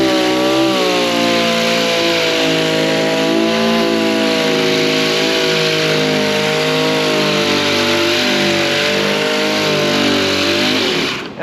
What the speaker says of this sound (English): when we are sanding on a surface like this, I always sand in like a search grid